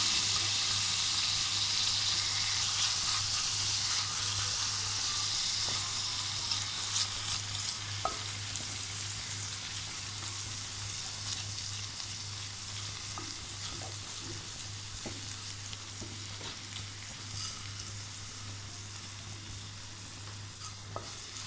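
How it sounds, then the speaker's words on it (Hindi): Garlic, ginger and a tablespoon of cumin sizzle steadily in oil for aloo keema, with occasional light scrapes of a spoon stirring the pan over a constant low hum, no voices. "अब हम लोग इसके अंदर डालेंगे लहसुन और अदरक और 1 टेबलस्पून जीरा हम डालेंगे अंदर और हम लोग इस सबको भून के"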